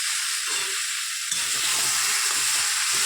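Nigella seeds drop into hot oil and a bright, hissing sizzle swells up partway through, growing louder and busier than the softer frying hiss before it, close by and with no voices.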